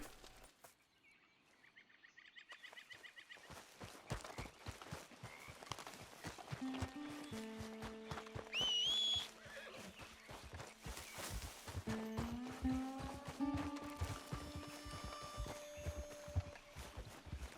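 In a video game, a horse's hooves clip-clop in a steady walking rhythm. A whinny rises partway through, over background music tones. The hoofbeats are close and moderately loud, and no one talks over them.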